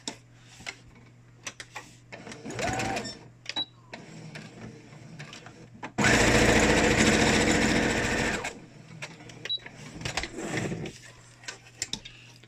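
A sewing machine stitches again over a homemade fabric mask to secure it, giving one loud, steady burst of close stitching flanked by small clicks and handling sounds.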